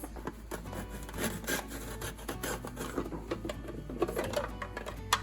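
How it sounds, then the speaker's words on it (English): Seeded acorn squash being sliced thin with a knife on a board, a quick series of close, crisp cutting strokes and scraping taps at an uneven rhythm, moderately quiet, with no talking. "Acorn squash here, seeded, and we're just going to cut it into very thin slices."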